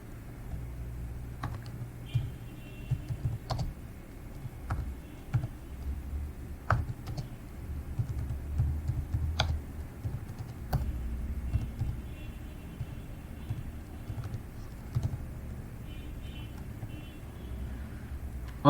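Typing on a computer keyboard produces an irregular run of light clicks and occasional sharper key taps over a low background hum, quiet and close.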